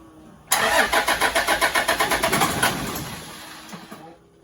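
A car engine given a shot of brake cleaner cranks with a rapid rhythmic churning of the starter, catches briefly and fades out, close and fairly loud, with no talking.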